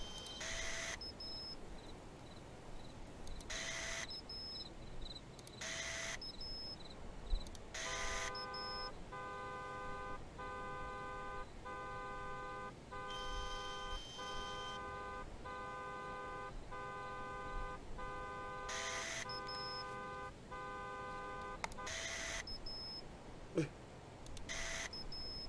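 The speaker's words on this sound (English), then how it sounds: "I hear a car alarm going off." A car alarm blares in the cemetery at night in the horror video game Graveyard Shift, looping beeps and a sustained honking tone over a constant low ambient hum, fairly faint and distant.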